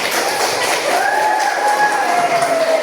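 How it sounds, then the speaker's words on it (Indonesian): Students in a classroom applaud a group after its short drama, a continuous wash of clapping mixed with crowd noise and a sustained whistle-like tone through the middle. "Tepuk tangan buat kelompok ini"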